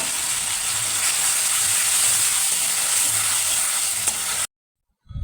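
Spice paste sizzles loudly and steadily in hot oil in a cooking pan, a close, continuous hiss that cuts out abruptly near the end before a brief rustle returns.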